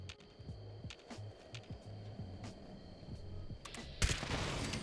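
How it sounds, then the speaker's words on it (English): A lever-action rifle in the game Fallout 76 fires in a series of quiet, sharp cracks spaced apart, ending with one louder, fuller blast. "Let's switch over to our lever action"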